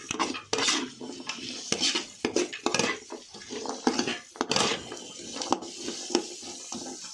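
Carrots and onion being stir-fried in a pot, with repeated clattering scrapes and knocks of a utensil against the metal in an uneven rhythm over a low background sizzle, close and fairly loud.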